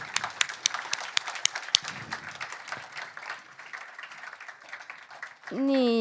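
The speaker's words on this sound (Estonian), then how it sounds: "teeme veel ühe suure aplausi" Audience applause rattles through a hall at a youth environmental closing event at Telia headquarters, a dense steady clapping that tapers off before a voice begins speaking.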